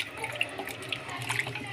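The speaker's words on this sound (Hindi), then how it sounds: "पानी डालना है" Tap water running steadily over chicken feet in a kitchen sink, washed with lemon, a soft continuous splashing stream that stays close and even throughout, with no voices.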